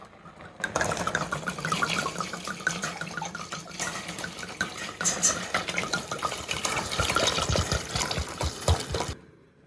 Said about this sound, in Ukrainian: Наш сироп готовий, заливаємо його.